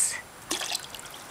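Water dripping and trickling from a child's bath or water toy, a brief burst of small splashy drips midway through, close and fairly soft, with no talk over it.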